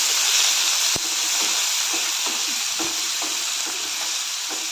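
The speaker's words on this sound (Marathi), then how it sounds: "त्यानंतर कांदा टोमॅटो कढीपत्त्याची पानं हे सर्व सॉफ्ट होईपर्यंत परतून घ्यायचं आहे" Onion, tomato and curry leaves sautéing in a pan with cumin, giving a steady hiss of frying broken by occasional sharp clicks of stirring.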